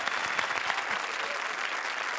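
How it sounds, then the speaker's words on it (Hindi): Studio audience applause at a Comedy Circus comedy show taping, a dense steady wash of many hands clapping continuously and loudly throughout, with faint crowd murmur beneath. "जोरदार तालियां।"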